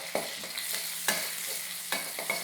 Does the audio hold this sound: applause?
no